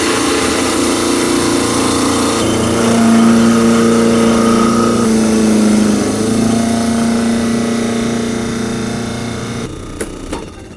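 Waring machine shaving frozen strawberry blocks, a loud steady motorized whir with a sustained tonal hum that holds for several seconds, then eases off near the end with a few small knocks.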